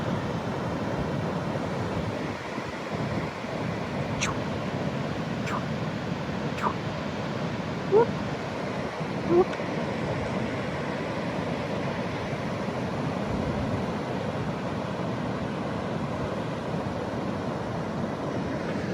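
Pacific Ocean surf rolls in as a continuous broad wash of waves, steady and fairly distant, with light wind noise and no talk.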